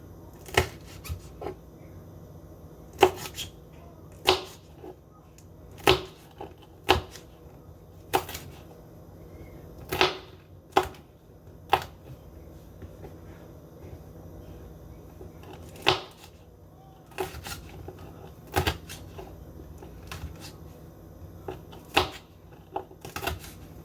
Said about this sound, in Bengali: এখন আমি একে একে কাঁচামরিচগুলো কুচি করব।